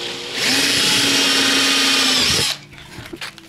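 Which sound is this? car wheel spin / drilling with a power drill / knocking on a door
drilling with a power drill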